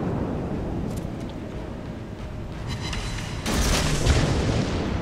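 Heavy naval gunfire in a warship battle game, including a battleship opening up on an enemy ship: steady low rumbling booms that grow into a loud, broad blast about two-thirds through, with no talking.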